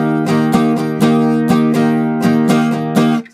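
Strummed guitar chords ringing out fully and sustaining between strokes in an even rhythm, loud and close, fading at the end.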